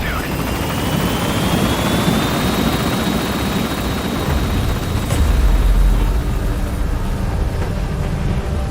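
Helicopter gaining altitude in Metal Gear Solid V, a loud continuous rotor roar and engine whine that swells slightly as it climbs, with a voice speaking over it.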